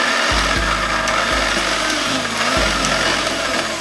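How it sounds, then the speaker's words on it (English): A blender whirs through chickpeas and onions, its motor grinding steadily and loudly with a few brief pulses where the pitch dips and restarts. "We're gonna blend it up again."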